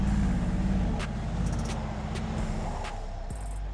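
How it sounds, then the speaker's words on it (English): A Mercedes G63 G-Wagon SUV drives in standard mode with little run-up, its engine a loud, steady low rumble near at hand, with a few brief sharp clicks over the drone. "Now it is the G-Wagon's turn. It drives in the standard mode and with almost no preliminary acceleration."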